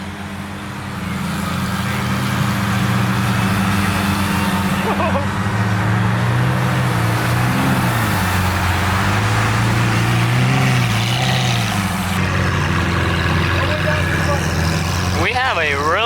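Lamborghini Aventador SVJ with twin turbos and an orange Aventador S pulling into an exotic car show, a loud, sustained engine rumble with shifting revs building and rolling close by, with voices faintly underneath.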